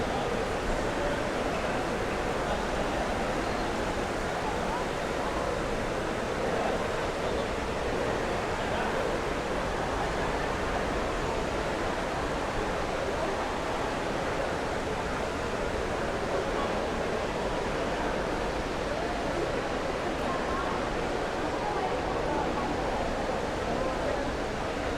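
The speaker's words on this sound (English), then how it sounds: "Centerpiece of the Eaton Center is this water fountain here." A large indoor water fountain in Toronto's Eaton Centre mall gives off a constant, even rush of falling and splashing water, a broad steady wash with no breaks, heard from nearby in a spacious hall.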